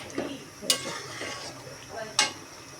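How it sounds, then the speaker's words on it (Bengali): Ginger, garlic, cumin and spices go into oil for chicken biryani, a soft sizzle punctuated by two sharp utensil clanks against the pot and light stirring. "আদা রসুন, জিরা আর মশলাগুলো সব তেলের ভিতরে ছাড়ছি।"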